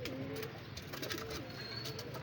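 Soft, low cooing from a zeera pigeon repeats a few times at close range over a faint background hiss, with no talking.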